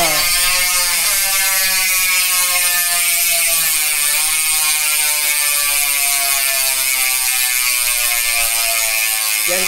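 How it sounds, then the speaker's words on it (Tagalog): Speed 1 Sniper version 3 mountain bike hub freewheeling, its ratchet pawls producing a loud, rapid, continuous buzzing click that runs steadily close by with no talking. "yung tunog ng Speed 1 Sniper version 3 MTB hubs kapag naka free wheel"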